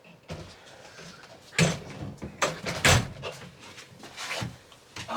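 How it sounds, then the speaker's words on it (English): A door is pulled shut inside a box truck camper under construction, giving several rattling bumps and a couple of louder thuds against a busy background. "Oh, get the door shut here."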